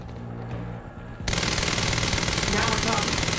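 Sustained rapid gunfire from the video game Quantum Break, a dense, loud burst of continuous automatic shots starting abruptly and filling the rest of the moment, with a voice faintly underneath.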